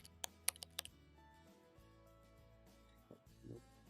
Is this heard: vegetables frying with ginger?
no